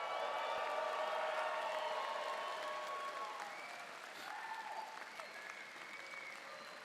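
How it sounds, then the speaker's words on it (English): Graduates at a doctoral and MFA commencement ceremony break into sustained, dense applause and cheering from a large crowd, loud at first and then gradually easing. "let's have you, the graduates, let out a big cheer for yourselves"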